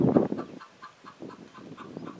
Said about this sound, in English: You can hear one of my chickens talking to me,